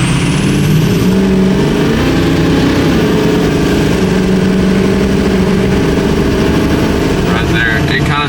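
A Ford F250 with a 6.0 Powerstroke diesel climbs a hill at about three-quarter throttle, its loud, dense engine drone heard from the cab, with a voice talking over it.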